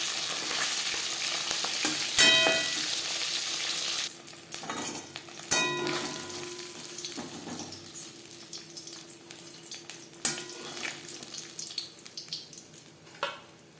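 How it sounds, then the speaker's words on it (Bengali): Pabda fish, a soft freshwater fish, frying crisp in oil, with a steady sizzle and occasional sharp clinks of a utensil against the pan, heard up close with no talking. "পাবদা মাছ নরম মাছ, আমি একটু কড়া করেই ভাজলাম"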